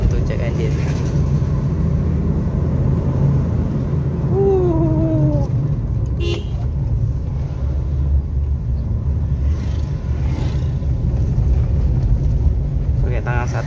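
A Suzuki XL7 with its check-engine light on gives a deep, steady rumble while driving, continuous throughout, with someone talking over it.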